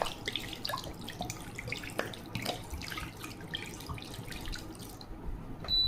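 Water is poured from a tap into a pot of meat seasoned with ground cumin and garam masala before slow cooking, a steady splashing stream with drips, close and continuous, no voices.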